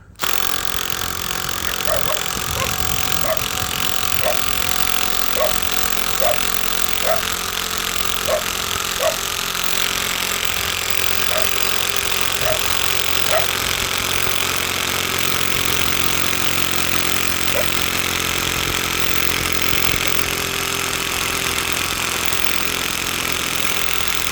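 Makita drill backing out a 55 cm screw, a loud, continuous motor whine that stays steady throughout, with faint periodic clicks beneath it.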